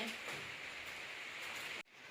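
Steady rain falls on an outdoor setting in rural Thailand, a continuous hiss lasting nearly the whole stretch before cutting off abruptly at the end; no one speaks over it.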